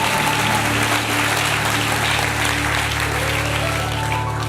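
A church congregation applauds and cheers, praising God during a French-language sermon: loud, continuous clapping with crowd voices, over a steady low hum from the hall's sound system.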